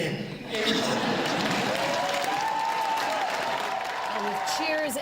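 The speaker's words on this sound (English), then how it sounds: "Cheers and roaring applause" A crowd cheers and applauds loudly and continuously, with a dense wash of clapping, whoops and voices lasting the whole stretch after a brief quieter start.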